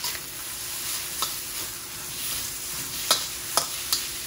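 Rice noodles stir-frying for Thai pad see ew as a sauce mixture goes in, giving a steady hiss of sizzling with a few sharp crackles and spits from the hot pan, close and with no talking.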